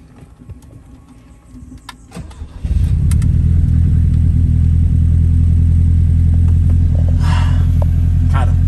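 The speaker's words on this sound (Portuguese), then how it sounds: "Olha a partidinha desse carro" Chevette Turbo engine cranks and catches, then settles into a loud, steady, deep idle rumble with light revving, close by and running continuously after the first few seconds.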